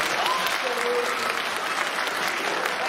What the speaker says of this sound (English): you guys are supposed to clap now